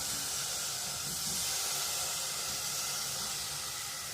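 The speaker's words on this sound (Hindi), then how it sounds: "ये मैंने पॉट लिया और उसके अंदर जो ये मैंने टमेटोज़ काटे हुए थे मैं उसके अंदर ऐड कर रही हूँ।" Chopped tomatoes hit a hot pot for homemade tomato puree, producing a loud, steady hissing sizzle that holds evenly throughout with no talking.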